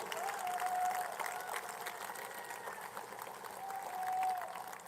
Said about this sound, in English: Please stand and let us applaud you also.